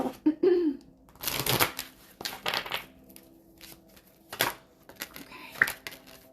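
Angel cards are shuffled for a reading in several separate bursts of riffling and flicking, fairly close. A short voice sound comes just before the first burst.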